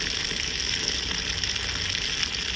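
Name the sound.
water washing mustard greens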